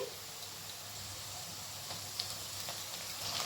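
Spice paste from the mixer going into a pan of fried onions for a chana dal, giving a steady, fairly quiet hiss of frying with faint crackles and no voices.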